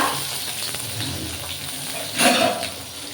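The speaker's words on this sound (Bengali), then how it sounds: "তো এখন আমি তেল দিয়েছি এই তেল তেলের মধ্যে আমি বেগুনগুলো একটু নেড়ে নেব" Brinjal pieces are stirred in hot oil, giving a soft continuous sizzle with faint scraping and a brief louder clatter of the utensil near the end.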